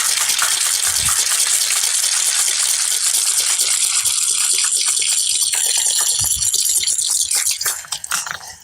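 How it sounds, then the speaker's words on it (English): Coffee cocktail shaken hard with ice in a locked cocktail shaker, a dense continuous rattling wash of ice that stays loud and steady, then tapers off near the end. "So we're pouring our ice in there, locking our cocktail shaker in, and here comes the fun bit."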